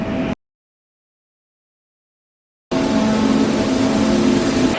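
Steady roar of hot rod car engines running nearby, loud and continuous, cutting in after a brief silent gap.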